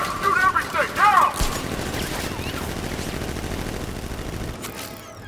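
Gunfire in the video game Batman: Arkham Knight as Nightwing fights thugs: dense bursts of shots and impacts crackle on and off over a loud, steady wash of game noise, mixed with shouting voices.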